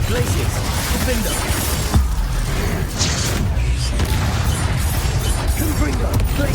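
Spell-combat effects from Hogwarts Legacy: repeated magical blasts, bursts and crackling impacts in a dense, continuous battle, with a voice speaking over the effects throughout.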